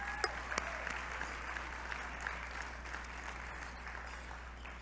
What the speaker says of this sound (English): Please clap your hands for yourself for being here.